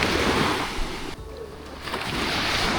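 Sea waves wash onto the shore at Pengerang at sunrise, a steady rushing surf with wind noise buffeting the microphone and a brief lull in the middle.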